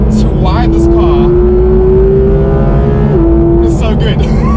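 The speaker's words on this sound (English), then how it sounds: "one thing that makes this car so exciting is this engine noise" A 991.2 Porsche 911 GT3 RS engine revs loud and close inside the cabin, its pitch climbing steadily before dropping with a gear change, over heavy road rumble.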